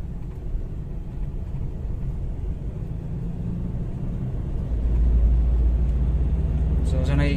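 A Ford Ranger engine idles as a low, close rumble, then swells louder and deeper about two-thirds through as it is revved past 2000 RPM, holding that heavier drone to the end.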